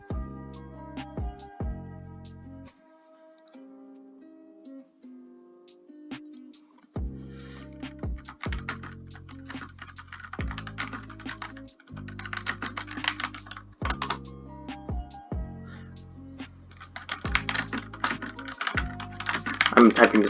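Rapid clattering keystrokes on a computer keyboard during an online match, arriving in uneven bursts with short pauses, close and fairly quiet, mixed with a tonal game soundtrack.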